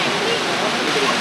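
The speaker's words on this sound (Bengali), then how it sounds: "এখানে এরকম একটা বিশাল ঝর্ণা আছে" Large waterfall in Company Garden, Mussoorie, a loud, dense and continuous rush of falling water filling the short stretch.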